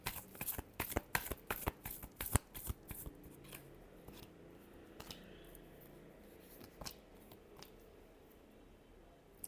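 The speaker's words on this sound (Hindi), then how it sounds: "Last shuffle." A deck of tarot cards is shuffled up close, a quick series of crisp riffling snaps that thins into softer intermittent card slaps and rustles, with no talk.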